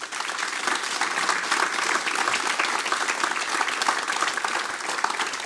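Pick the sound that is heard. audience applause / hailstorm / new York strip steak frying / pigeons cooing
audience applause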